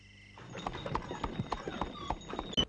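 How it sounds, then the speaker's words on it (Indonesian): Horse hooves clip-clop steadily on a road as a horse-drawn cart travels along, a run of close, regular knocks with a brief louder knock near the end. "Kemudian mereka berangkat dengan menggunakan kereta kuda."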